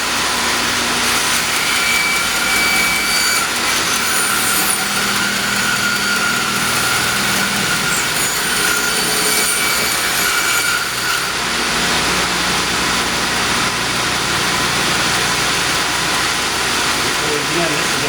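A wood log of turning stock being sliced lengthwise along a crack with a chainsaw, the steady high engine whine running continuously and loud for the whole stretch.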